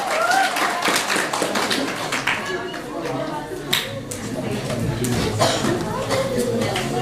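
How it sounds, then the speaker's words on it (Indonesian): Audience applause at an Indonesian religious lecture, a dense run of claps spread through the hall that rises and falls without a break, with crowd chatter mixed in underneath. "Tepuk tangan dulu."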